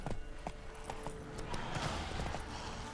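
Clip-clopping hoofbeats of a horse in The Witcher 3: Wild Hunt during a horse race, irregular and fairly close, over a steady background hum with a few sharp clicks.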